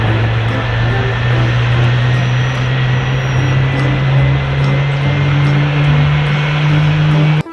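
A toy airplane's engine sound hums loudly and steadily for several seconds without a break, a constant mechanical roar like a small motor, cutting off abruptly at the end.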